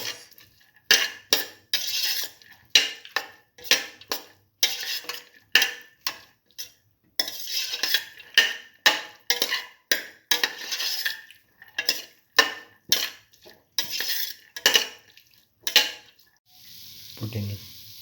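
A spoon scrapes and clinks steadily against a pot while beef and split chickpea stew ingredients are mixed, the strokes coming in quick rhythmic bursts, close and alone, with a soft sizzle between them.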